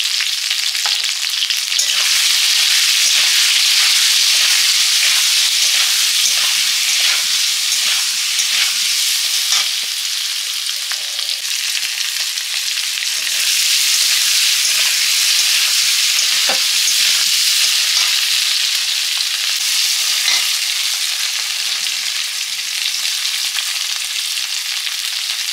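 Small round field-picked potatoes frying in oil with turmeric and salt, a constant loud sizzle with intermittent scraping and stirring strokes across the pan, running without pause and with no talking.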